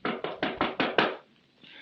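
Six sharp knocks on a door strike in a quick even rhythm, close and loud, followed by a brief quiet pause with faint room sound.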